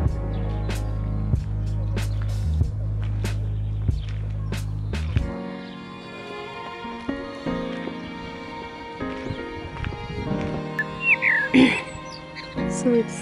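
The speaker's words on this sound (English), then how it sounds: "it's quite peaceful here because you can hear the birds" Birds call outdoors in a quiet Berlin housing estate, scattered chirps and whistles near and far over a low steady hum that fades midway, with sparse, irregular notes continuing.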